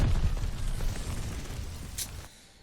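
A cruise missile strike in a war video game lands as a loud, rumbling explosion that fades, with a sharp crack near the end before the noise drops away.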